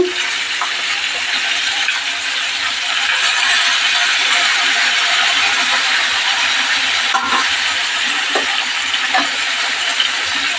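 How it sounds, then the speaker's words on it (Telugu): Tomatoes going into a pan of sizzling masala for gutti vankaya curry, a loud steady frying hiss with a few light clinks and taps of a utensil against the pan. "ఇప్పుడైతే టమాటా పండ్లు అయితే వేసేద్దామండి"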